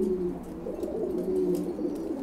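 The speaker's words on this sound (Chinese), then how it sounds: "这只公鸽子，有的鸽友一眼就认出来是麒麟花了啊" A male Qilin-hua pigeon coos in a steady, low rolling rhythm close by, with repeated throaty phrases running through the whole stretch and no talk over it.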